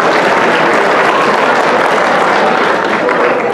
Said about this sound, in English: Who would give them a round of applause?